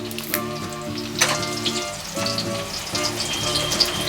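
Two bay leaves dropped into hot oil for a fish-head moong dal, giving a steady close sizzle and crackle with a faint tonal hum underneath, briefly swelling at moments.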